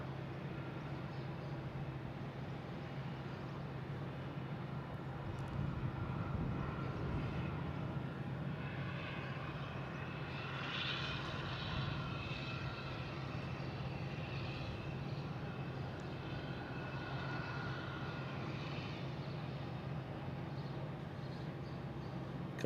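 An Alaska Airlines Boeing 737 MAX 9 arriving from Seattle on approach to Boston Logan, a broad, continuous engine roar that builds and holds for over twenty seconds at moderate distance, with no one speaking.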